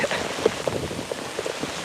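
Steady rain falls during a thunderstorm, close pattering drops on surfaces and a thin rain jacket, with no thunder audible in the short stretch.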